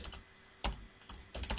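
A few soft keystroke clusters on a computer keyboard while text is typed into a calendar layout, short taps in brief bursts separated by quiet pauses.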